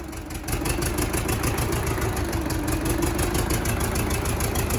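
A YUMZ-6 tractor engine, left with water undrained, idles roughly on only two cylinders with a loud, steady, uneven knocking thrum close by.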